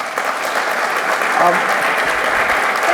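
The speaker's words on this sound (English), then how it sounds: "I love this applause." A roomful of people applauds at a polling institute conversation event, dense continuous clapping filling the space at close range.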